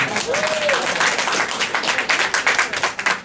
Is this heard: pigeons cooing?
no